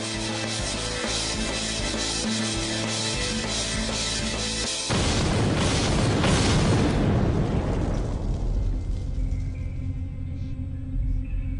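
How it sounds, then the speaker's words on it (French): Dull rumbling noise gives way to a massive broadband dynamite blast in a city that roars loudly, then slowly fades as the low rumble lingers and debris settles. "La détonation résonne dans toute la ville."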